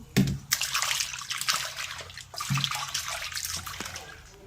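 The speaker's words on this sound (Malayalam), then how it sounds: "മധുരക്കിഴങ്ങ് തൊലി കളഞ്ഞ് കഷ്ണങ്ങളാക്കി നന്നായി കഴുകിയെടുക്കണം" Peeled sweet potato pieces being washed in water, with splashing and sloshing in bursts as the pieces are swirled and rubbed by hand, close and moderately loud.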